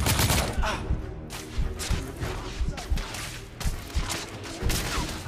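Gunfire in the video game The Order: 1886, a dense, sustained barrage of overlapping shots and impacts during a firefight, loud and continuous across the whole stretch.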